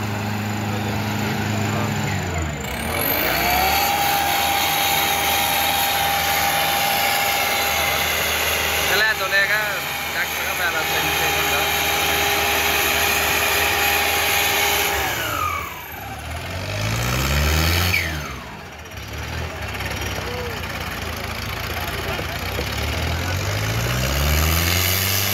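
A tractor engine runs at a tractor pulling contest, a heavy drone that revs and dips with rising and falling tones across the clip, while a crowd talks over it.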